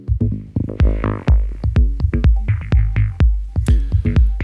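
Deep electronic bass line with multiband sidechain compression ducks and swells under a punchy kick drum, pumping in a steady rhythmic beat while the upper range stays open.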